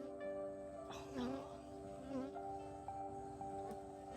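Honey bees buzz steadily around a hive during an August swarm attempt, a continuous close drone with a few louder passes near the listener and no talk.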